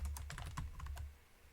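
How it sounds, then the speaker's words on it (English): Rapid, light clicks of typing on a computer keyboard, a quick burst of keystrokes close by that trails off into quiet after about a second. "He's typing, ladies and gentlemen."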